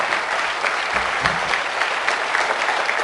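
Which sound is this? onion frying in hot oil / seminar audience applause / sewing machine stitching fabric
seminar audience applause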